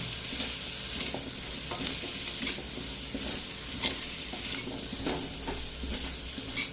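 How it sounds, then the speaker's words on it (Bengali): Cubed potatoes with salt and turmeric fry in a little oil in a wok, a close, steady sizzle broken by repeated scraping stirs and clinks, with no talk. "এই কড়াতে আমি আর একটু তেল দিয়ে এবার আলুগুলোকে ভেজে নেব।"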